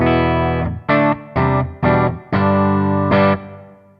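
Clean electric guitar played direct through a REVV amp head with light reverb, a run of separate chords, each ringing briefly before the next; the last one fades out with a short reverb tail.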